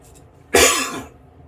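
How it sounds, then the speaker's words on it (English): A single sharp cough, close and loud, bursting out after a quiet moment and trailing off within half a second. "Don't cough when you got a razor close to your face."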